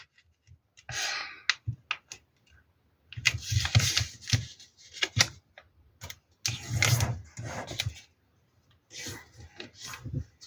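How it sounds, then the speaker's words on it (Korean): Paper being unfolded and folded into a triangle for a mini car craft gives intermittent crisp rustles and crinkles, close and moderately loud, separated by quiet gaps. "또 펼쳐서 세모를 접어주세요."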